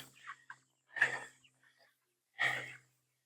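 A few soft clucks and murmurs from chickens nearby, in short separate bursts with quiet gaps between them.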